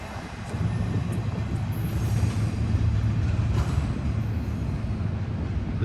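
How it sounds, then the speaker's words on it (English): Steady rolling rumble of a freight train passing nearby in Seaman, Ohio, rail cars clattering in a constant low drone that starts abruptly and holds at even loudness. "An awesome train with a flag on the back."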